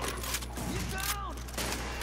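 Gunfire aimed at the player in a video game, a quick fusillade of shots over a couple of seconds, heard under a voice and game sounds.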